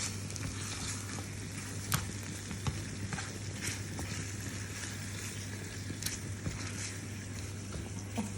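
Steady, soft sizzling of lamb cutlets frying in butter over low heat, with occasional small pops and crackles over a constant low hum.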